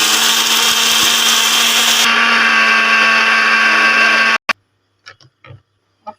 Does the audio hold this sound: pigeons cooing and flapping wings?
no